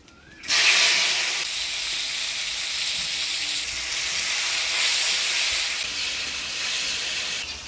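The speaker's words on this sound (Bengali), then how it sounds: "হলুদ লবণ দিয়ে কচুরলতিটা একটু ভাজা ভাজা করে নিলাম" Boiled taro stolons frying in a pan with turmeric and salt, a loud steady hissing sizzle that bursts in suddenly and holds evenly, with no talk.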